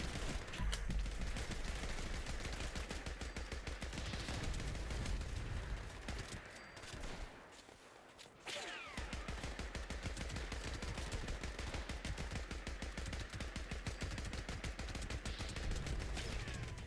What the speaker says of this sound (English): This is why the assault rifle's nice, the range.